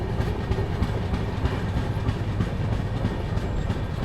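A sleeper-class train running from Indore to Pune pulls into Dewas Junction railway station in India, the steady rumble and clickety-clack of rolling carriages heard up close from on board, with no voices.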